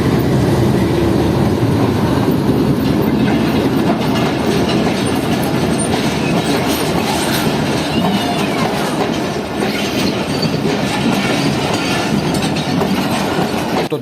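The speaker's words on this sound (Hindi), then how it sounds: "इस वक्त मेरे सामने से आ रही है पेशावर कोयटा के दरमियान चलने वाली 40 डाउन जाफर एक्सप्रेस" The 40 Down Jaffer Express, a Pakistan Railways passenger train between Peshawar and Quetta, rolls past close and loud, wheels clattering rhythmically over rail joints in a continuous roar.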